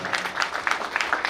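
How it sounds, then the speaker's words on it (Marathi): An audience at a Diwali morning music concert applauds for a tabla player, brisk clapping with bright bursts, moderately loud and steady across the short span. "पंडित दिलीप व्यास यांच्यासाठी जोरदार टाळ्या"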